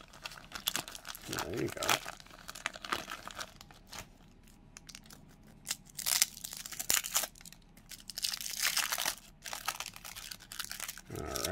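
A wax-paper wrapper on an early-1980s Topps or Fleer baseball card pack is torn open with loud, close crinkling and tearing in several bursts, while someone talks briefly.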